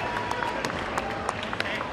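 Audience at a basketball tournament applauding, a steady patter of many clapping hands with some sharper individual claps, while an announcer talks over it.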